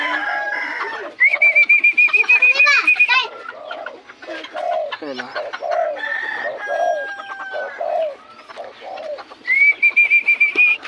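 Pet birds call loudly and close by during feeding, with repeated rhythmic coos and clucks and several rising, crowing-like cries, while a person's voice is faintly audible in places.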